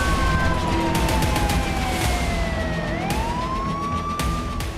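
Alert sirens wail over Ashkelon, Israel, during a rocket attack, a loud continuous rising-and-falling tone that glides down and then back up, with no voices.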